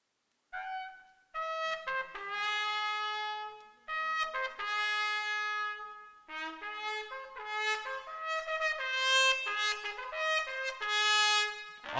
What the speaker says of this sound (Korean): 한번 나팔 소리 한번 잠깐 들어보도록 하겠습니다